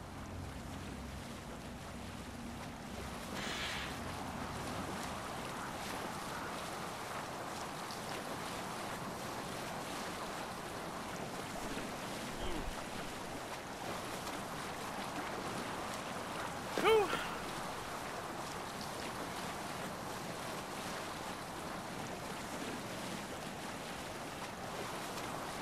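In Assassin's Creed Valhalla a Viking longship sails over open water, with a steady low wash of waves and wind running throughout, faint and even, with one brief louder splash partway through.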